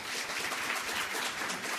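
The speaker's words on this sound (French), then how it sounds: "je laisse la salle vous applaudir" Continuous applause from an audience in a lecture hall, a fairly faint, even wash of many hands clapping for a professor, sustained without a break.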